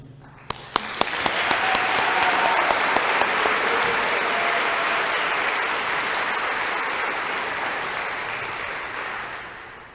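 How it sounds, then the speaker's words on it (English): An audience at a Catholic school graduation ceremony bursts into sustained applause, beginning with a few sharp individual claps and swelling into a dense, even roar of clapping that holds steady before easing slightly. "Let's give them another round of applause."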